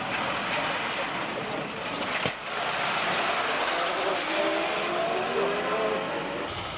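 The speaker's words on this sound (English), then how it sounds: "Now the flag is down for Doug Hill in the green Bewley car" A green 60-horsepower Bewley vintage car engine runs as a steady, loud rumble with a broad mechanical roar throughout, close by at a vintage car event.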